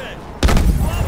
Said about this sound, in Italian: Lanciamogli una granata là dentro